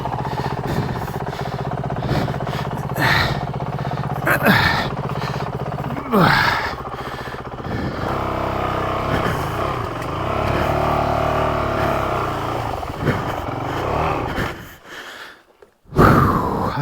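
Dirt bike engine labouring along a rough, difficult section of the Sheltowee Trace trail in Kentucky, a steady close motor drone with revving surges and bumps, a few short breaths or gasps over it, cutting out near the end before a loud burst.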